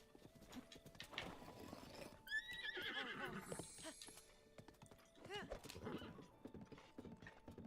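A horse in Zelda: Breath of the Wild whinnies loudly with a rising, wavering neigh, then gives a second whinny amid busy game sounds and clip-clopping hooves, with a voice talking over it.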